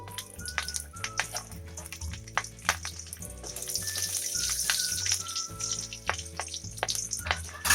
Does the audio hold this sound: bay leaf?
yes